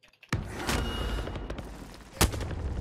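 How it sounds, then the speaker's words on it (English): Sniper gunshots ring out in a battle royale video game, with a sharp loud crack near the start and another just past two seconds, each followed by a short decaying boom against a steady rumble of game ambience. "So oh, I got sniped again."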